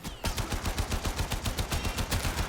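Rapid automatic gunfire from a weapon in the shooter game Warframe, a steady burst of evenly spaced shots, loud and close, running unbroken with no voices.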